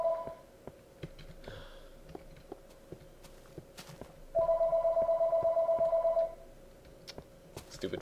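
An in-game telephone rings in a burst of rapid, evenly pulsed electronic trills lasting about two seconds, standing out above a steady hum and scattered clicks and footsteps in a Minecraft session.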